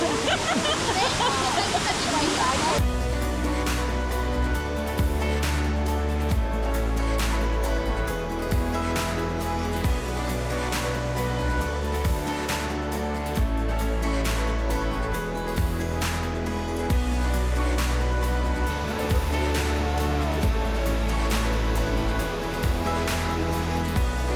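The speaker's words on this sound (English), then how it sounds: "These 4 waterfalls that we've seen today have been amazing" A waterfall in Ubud, Bali roars continuously after a brief opening, broad and steady, with people talking faintly beneath the rushing water.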